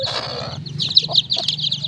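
Chickens and chicks clucking and peeping close by on a Bengali backyard poultry setup, with a steady low hum and rapid high chirps scattered through the short clip.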